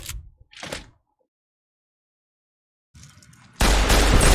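Rifle gunfire in a survival shooter game: two short bursts of shots, then silence, then a loud sustained blast of noise near the end, with no talking.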